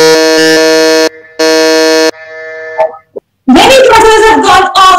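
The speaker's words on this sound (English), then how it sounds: "Many buzzers have gone off" Loud electronic quiz buzzers blare in two sustained bursts at a quiz competition quarter-final, followed by a brief tone and then a burst of excited crowd noise.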